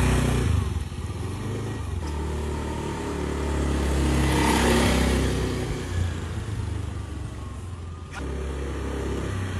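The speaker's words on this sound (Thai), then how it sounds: "นี่เสียงมอเตอร์ไซค์" A motorcycle engine rumbles steadily at a moderate distance, swelling louder midway as it revs or passes, then settling back to a constant drone.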